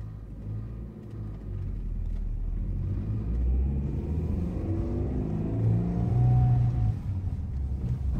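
A 1985 Honda City R, a right-hand-drive JDM car, pulls away after a cold start. Its engine gives a steady low rumble that swells as it accelerates, and pitch rises with the revs near the end.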